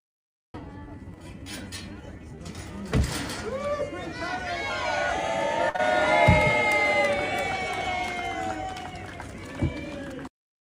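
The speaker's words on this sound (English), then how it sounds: "Now, does that sound like a small crowd?" A large crowd of schoolchildren cheers and shouts continuously at Prince Harry's primary school visit, a loud dense roar with high excited voices swelling toward the middle.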